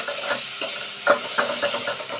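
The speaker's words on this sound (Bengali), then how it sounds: "এবার দিয়ে দিব কুচি করা টমেটো, পেঁয়াজ, কাঁচা লঙ্কা, সব একসঙ্গে দিয়ে ভালো করে মিক্স করে নেব" Chopped tomato, onion and green chili being stirred together in a hot pan, with a soft steady sizzle and a few light spatula scrapes and clicks close by, no talking.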